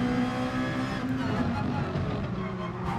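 Race cars in GT Sport pulling away at the start on the Red Bull Ring, a loud sustained engine roar with layered revving tones and no clear breaks.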